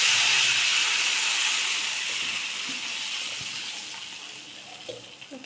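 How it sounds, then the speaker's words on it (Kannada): Water coming to a boil in a pan for uppittu, a steady close hiss and bubbling that slowly fades over several seconds. "ನೋಡಿ, ಇಲ್ಲಿ ನೀರು ಕುದಿ ಬರ್ತಾ ಉಂಟು"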